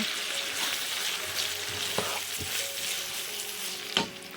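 Chopped red onion frying in a pan with salt, a continuous bright sizzle close up, with a few soft knocks and stirring scrapes.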